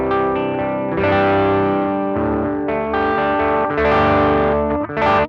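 Distorted electric guitar chords ring through a BOSS FBM-1 '59 Bassman pedal with the bass knob turned down, several strummed phrases played close and loud, thinner in the low end.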